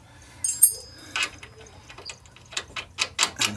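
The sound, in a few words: tightening a bolt on a Jeep TJ rear bumper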